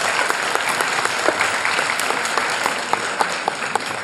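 Audience applause at a junior college event, a dense steady clapping that fills the whole stretch with a few sharper claps standing out, no talk over it.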